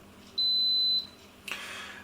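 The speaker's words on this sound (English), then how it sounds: "So that beep tells us that the cooking process has begun." Instant Pot pressure cooker gives a single clear electronic beep lasting about half a second as its pressure cooking cycle starts, followed by a soft hiss of steam, in a quiet kitchen.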